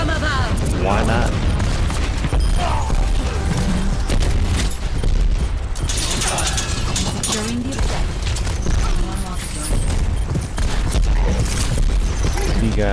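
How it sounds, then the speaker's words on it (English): Pharah's rocket barrage in the video game Overwatch unleashes a dense, continuous storm of loud explosions and blasts, layered with game effects and a voice talking over the chaos. "And one more rocket barrage."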